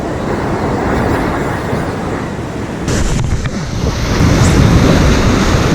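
Sea waves wash against rocks on a rising tide, a continuous loud roar of surf with wind buffeting the microphone, swelling louder toward the end, with no talking.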